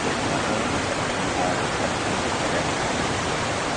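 Steady roar of river water rushing over the rocks at Curug Dago waterfall, a dense broadband wash that holds loud and unbroken from start to end with no voices.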